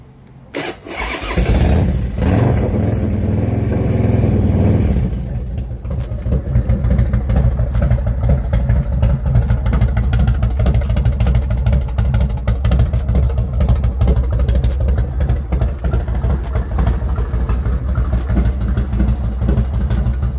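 A 2007 American IronHorse Texas Chopper custom motorcycle engine cranks and fires up, then settles into a loud, steady, close-up idle with a rough, pulsing rumble.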